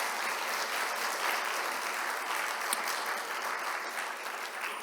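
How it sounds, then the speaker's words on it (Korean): A church congregation applauds the choir conductor during a Sunday service, producing a dense, even wash of many hands clapping that holds steady throughout and fades slightly at the end. "우리 한 박수로 한번 격려하겠습니다."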